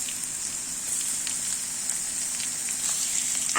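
Crushed ginger and garlic with carrots frying in a pan, a soft steady crackling sizzle with faint popping, fairly quiet and unbroken.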